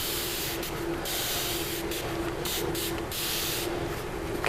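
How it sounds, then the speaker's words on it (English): A hand sprayer mists liquid over garden plants, a steady hissing spray with short pumping breaks in rhythm, close up and without talk. "and just spraying it."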